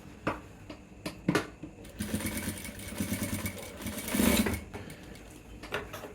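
A sewing machine stitches a trouser cross pocket in short close bursts of rapid mechanical whirring and clatter with brief pauses and a longer run in the middle, and no talk.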